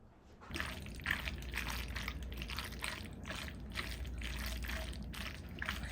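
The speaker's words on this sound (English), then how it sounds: "Reserve about a half cup to 1 cup of pasta water and add it to the pasta." Starchy pasta water poured onto cooked pasta for shrimp scampi, a close, continuous splashing pour lasting several seconds after a short quiet start.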